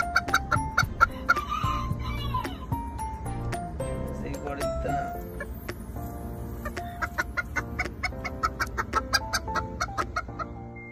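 Chicks and hens cluck and peep in a steady flurry of short calls, fairly close, with someone talking over them throughout.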